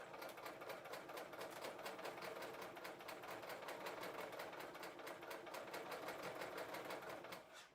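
A serger sewing machine stitches a fabric sample with differential feed set to gather. The motor runs a rapid, even stitching rhythm at a steady pace, close and clear, then winds down and stops at the end.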